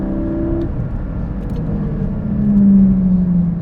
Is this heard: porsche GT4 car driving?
yes